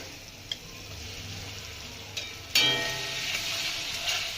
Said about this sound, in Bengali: মশলাটাকে দিয়ে আমি ভালো করে কষিয়ে নেব